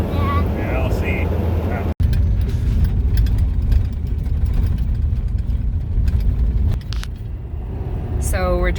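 Car driving along Road 160 toward the Four Corners National Monument, a steady low engine and road rumble that stays loud throughout, broken by a brief dropout near two seconds, with occasional voices inside the cabin.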